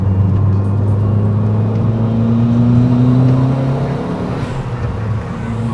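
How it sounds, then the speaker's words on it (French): Tuned Renault Twingo RS turbo, rated 247 hp, heard from inside as a loud, steady engine drone with a rising whine, easing off toward the end. "vous entendez le turbo qui"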